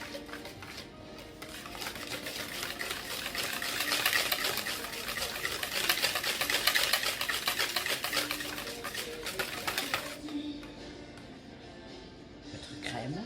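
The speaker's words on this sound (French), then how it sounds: "et vous fouettez." Oil being whisked into chocolate cake batter gives a rapid, continuous wet swishing and scraping that swells in the middle and then fades, followed by quieter handling sounds.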